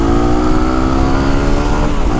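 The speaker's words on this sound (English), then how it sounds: "Feels nice to be back on the supermoto." Yamaha WR250R supermoto motorcycle engine running loud and close with a steady, sustained drone and rising harmonic pitch, a continuous rev with no pauses.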